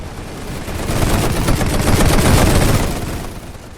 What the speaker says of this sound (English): Shooting at the Indian infantry advancing on us.